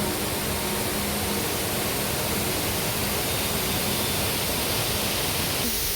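Rainbow Waterfall, also called Indrani Waterfall, at Sonada pouring into the river below, a steady, dense broadband rush of falling water that holds constant throughout, close and loud, with no voices.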